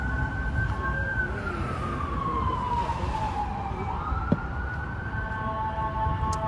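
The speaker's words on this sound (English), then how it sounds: "I think this is just an ambulance coming." An ambulance siren wails on a city street in Washington, D.C., its tone sweeping down and back up as it passes at moderate distance over steady traffic rumble, with no talking.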